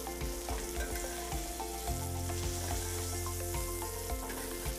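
A bone-in strip loin steak sizzles in a frying pan while being basted, a steady close sizzle with rhythmic spooning and bubbling pulses and no talking.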